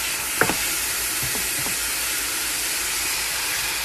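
Seasoned ground turkey browning in a large pan for lasagna: a steady close hiss and sizzle, with a few scraping stir strokes early on, no talking.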